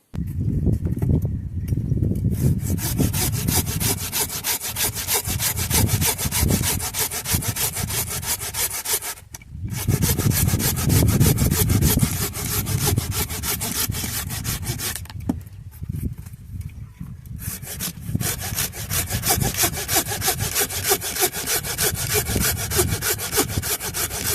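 A Japanese hand saw with a small 180 mm blade, freshly sharpened, rasps steadily through wood in loud, continuous back-and-forth strokes, pausing briefly twice between runs of sawing, with no voices.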